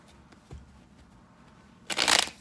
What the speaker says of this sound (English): And shuffle 2 more times.